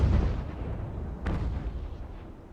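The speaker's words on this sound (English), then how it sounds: "Some of those long guns managing to get off." Naval long guns firing in the sailing-warship game Ultimate Admiral: Age of Sail, a deep rumbling cannon report that rolls on, then a second sharper shot and a slowly fading boom, heard at a distance.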